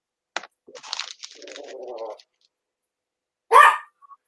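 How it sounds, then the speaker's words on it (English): Scattered clicking and a whiny vocalization, followed by a single sharp, loud dog bark nearby, then quiet. "She's barking at the cat."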